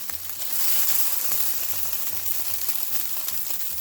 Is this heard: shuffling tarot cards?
no